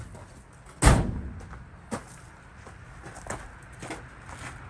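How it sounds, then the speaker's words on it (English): A single sharp clunk as the hood of a 2005 Mercedes Sprinter van is released and lifted, followed by a few fainter knocks and thumps in a quiet space. "Pop the hood open."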